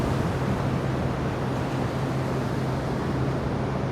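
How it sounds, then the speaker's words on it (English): Strong wind roars steadily across the microphone with a broad, rushing rumble, constant and loud, like a blustery seaside. "It's very windy here."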